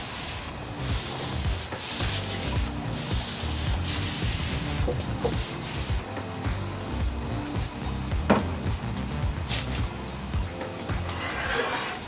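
Wood stain being wiped onto oak stair treads by hand, a steady, soft rubbing and scrubbing that runs continuously at close range with small scuffs and taps.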